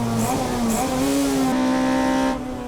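A Toyota AE86 Hachi-Roku race car in an N2 race at Tsukuba circuit, its engine note holding steady then stepping up through gear changes, loud and continuous with a faint tire squeal.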